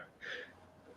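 A single short sneeze-like burst of breath from a person, brief and fairly close, standing alone in a quiet indoor room with no talking.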